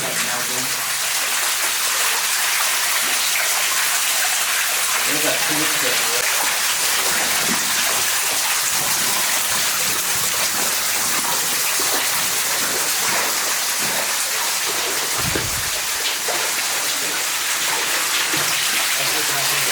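Steady rushing water pours continuously down a chute in an old Alaska gold mine, loud and broadband like a torrent splashing down a channel, with no break throughout.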